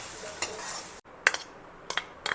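A spoon stirs and mixes chutney in a metal pot, giving a few separate scraping clinks with short gaps between them. The strokes are close but fairly quiet, and no one speaks.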